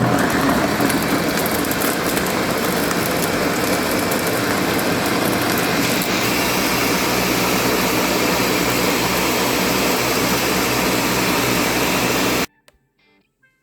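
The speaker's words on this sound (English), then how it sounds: "let's give it a few pulses and blend on low" A kitchen blender purees birria sauce with dried chilies on a low setting, giving a loud, steady motor roar that runs without pause before cutting off abruptly.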